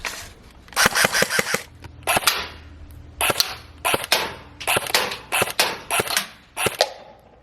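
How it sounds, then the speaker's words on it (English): An airsoft gun fires repeatedly at a worm can sitting on a roof, giving sharp close snapping shots in quick bursts with short pauses between groups. "So now he's going to shoot it down with an airsoft gun."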